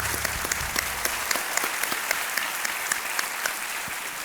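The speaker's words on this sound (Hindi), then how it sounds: "तालियों के साथ आपका हम अभिनंदन करते हैं।" Studio audience applause fills a television quiz show set: dense, even clapping with sharp individual claps standing out at a steady rhythm, no voices over it.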